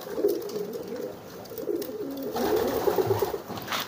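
A brooding pigeon sitting on its eggs coos softly in repeated low, rolling bursts, close by and fairly quiet against faint background noise.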